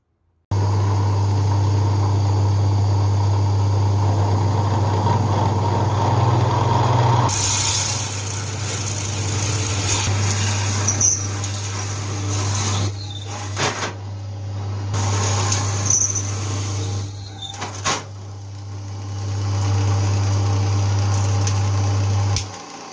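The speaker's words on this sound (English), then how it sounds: "I'm going to do 25mm holes just to try and make it lighter." Drill running with a steady low hum while boring 25mm holes in aluminium, the tone shifting as the cutter bites into the metal, with brief interruptions near the end.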